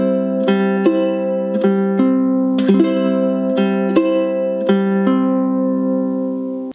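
Ukulele fingerpicked at full song tempo in a steady 1-and-2-and pattern, clear plucked notes ringing over repeating chords, played alone and close with no talking.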